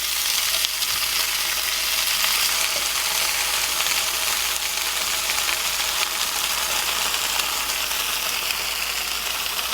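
Canadian bacon sizzles in a pan over low heat as part of a homemade egg breakfast sandwich. The frying crackle is loud and steady for the whole stretch, with no voices over it.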